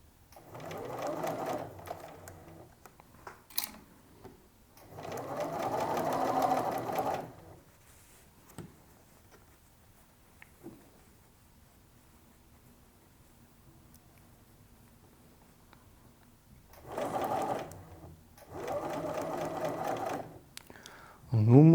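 A sewing machine stitches the lining at a skirt slit in several bursts of rapid, steady whirring, close by, separated by quiet pauses with small handling clicks and faint sounds of fabric being moved.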